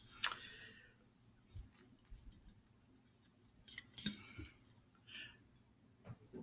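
Scissors cutting through material to shape a baffle, several quiet, separate snips and crisp slicing strokes with soft handling noises between them, close and faint, with no voices.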